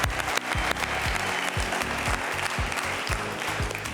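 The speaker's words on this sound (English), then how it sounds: "Your hands together for him." Studio audience applauding a quiz contestant who has qualified for the finals of a televised Nigerian quiz show, a dense, steady clatter of many clapping hands that fills the room without a break.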